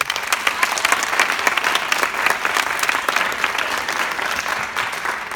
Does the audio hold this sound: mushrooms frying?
no